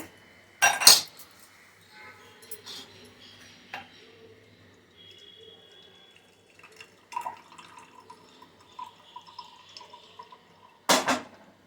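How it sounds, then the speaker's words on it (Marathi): Freshly blended wheatgrass juice being strained at home: quiet dripping and trickling with a few sharp clinks and knocks of utensils, sparse and close. "ज्यूस झालेला आहे गाळून घेऊया"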